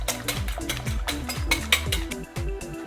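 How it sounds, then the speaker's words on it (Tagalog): A whisk beats soy sauce into a mixture in a bowl, its quick strokes making a steady rhythmic run of metallic clinks and scrapes, close and clear with no voices. "Add 3 tablespoons of soy sauce, then whisk and mix them well"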